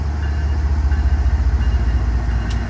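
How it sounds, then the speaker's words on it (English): Canadian National 4,400 horsepower diesel-electric locomotives hauling an eastbound Norfolk Southern manifest freight at Elkhart, Indiana, give a steady, loud, close rumble with a deep rhythmic throb and no voices. "diesel electric locomotive on this eastbound Norfolk Southern manifest freight"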